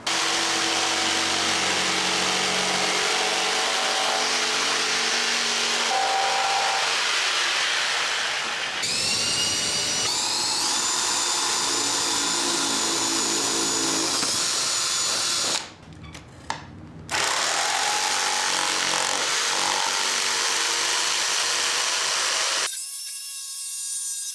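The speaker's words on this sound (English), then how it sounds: "We'll break out the jigsaw, get all of this cut out." Jigsaw cutting wood for a chips and dip tray: a loud, steady power-tool buzz that keeps running with a shifting pitch, stops briefly, restarts and then cuts off.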